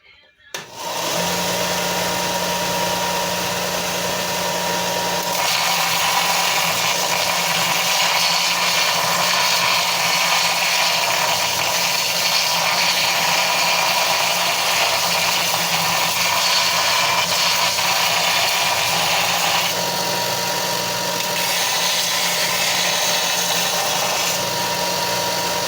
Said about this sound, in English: I think we're going to go over to this belt sander.